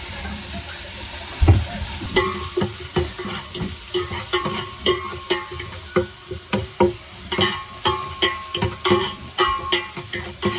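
Crushed pepper, cumin and garlic fry in hot oil, a steady sizzle cut by rhythmic scraping and stirring strokes of a spoon in the pan, up close and fairly loud, with no voices.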